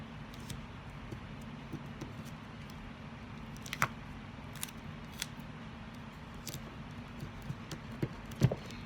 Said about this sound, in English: you can fold your cardstock and use a pair of scissors to cut that